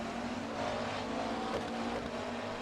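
McLaren GT3 race cars running at the Red Bull Ring during a GT3 series race, a steady, dense engine roar held at fairly even loudness throughout, with no voices.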